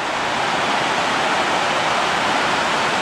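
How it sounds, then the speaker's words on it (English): A powerful rush of water gushing out of a mountainside nearby, a dense, steady roar that fills the whole clip without any voices. "this is more water coming out than I have ever seen."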